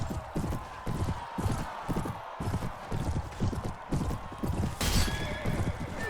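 Horses in the Mount & Blade Warband video game gallop with a rapid, continuous clip-clop of hooves in a busy battle scene, and a loud neigh breaks through near the end.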